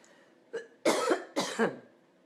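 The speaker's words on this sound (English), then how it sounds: "I'm having a bit of a coughing fit." A short burst of harsh, close coughs, one small cough then two heavy ones in quick succession, alone with no talking.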